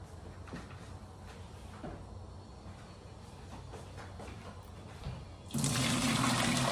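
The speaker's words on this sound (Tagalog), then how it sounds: "We're going to drain it and wash it again." Water runs steadily as boiled pork rib pieces are drained and rinsed in cold water, with faint clinks of a pot or sieve, then a louder gush of running water pours in near the end.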